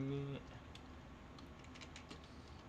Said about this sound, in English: Sorry, I am typing and I cannot type and talk at the same time